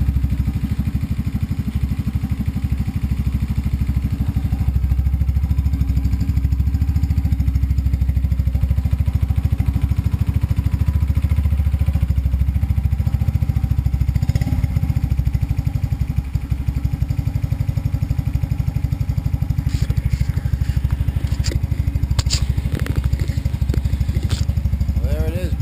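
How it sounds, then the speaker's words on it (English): A scooter engine fitted with a Flowmaster exhaust idles steadily with a deep, throaty exhaust rumble, close and loud throughout, with some rattling clatter near the end. "I think that Flowmaster has a nice sound on this bike."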